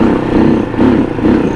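A Vento GT250 adventure motorcycle engine drones loud and close, a steady mid-pitched hum that swells slightly in waves as the rider holds the throttle, with no voices.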